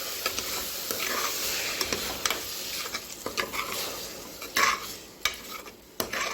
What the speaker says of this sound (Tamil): சேர்த்துட்டு நல்லா அப்படியே மிக்ஸ் பண்ணி விட்டுக்கலாம்